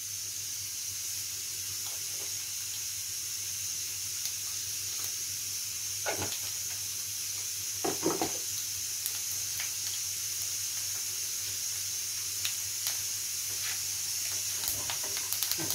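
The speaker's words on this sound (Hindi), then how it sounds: "अच्छे चटकने देते हैं अच्छे तरीके से।" Panch phoron (fennel, cumin, nigella, ajwain, fenugreek and mustard seeds) and asafoetida crackle in hot oil for a tadka: a continuous sizzling hiss with scattered pops, no talking.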